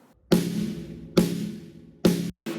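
Three plain snare drum hits, close and fairly loud, each with a short buzzing decay; the last one is cut off quickly.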